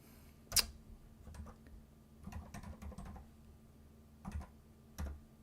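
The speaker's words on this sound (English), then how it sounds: "Actually, we can just type it directly." Sparse computer keyboard keystrokes come in small scattered bursts and single clicks, faint and close in a quiet room with no talking.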